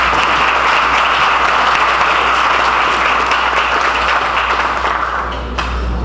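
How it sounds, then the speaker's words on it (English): Sustained applause from a luncheon audience at a commercial real estate event, a dense, steady wash of clapping that stays loud throughout and eases slightly near the end. "let's give them one more round of applause"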